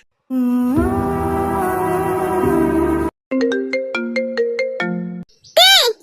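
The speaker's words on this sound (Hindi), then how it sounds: "जाकुक का फोन है, इसे उठा।" A phone ringtone plays loudly nearby: a sustained electronic melody, then a series of short repeated beeping notes, then a brief rising tone.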